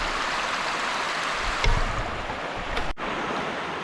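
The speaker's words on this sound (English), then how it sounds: "These river rapids are overpowering my voice" Rushing river rapids roar loudly and steadily, a dense wash of churning water close by that fills the whole scene without pause.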